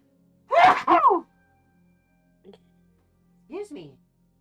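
A single close, voiced sneeze, followed after a pause by a faint click and a short bit of quiet speech.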